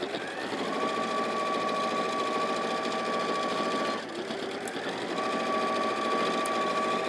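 An Elna 780+ sewing machine stitches backwards and forwards with a fast steady mechanical whir and a tonal hum, pausing briefly midway before resuming, close and clear.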